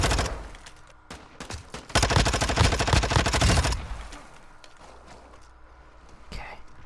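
Rapid gunfire bursts from the video game Warzone 2.0, loud and dense for several seconds before dropping to a quieter background with a few scattered sharp reports.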